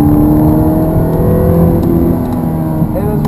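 A Ferrari F430 accelerates on the Hallett Motor Racing Circuit, its engine loud and close with a steady rising whine held throughout.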